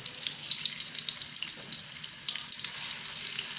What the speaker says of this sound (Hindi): इसके अंदर हम डाल रहे हैं सबसे पहले लहसुन अदरक का पेस्ट 2 चम्मच।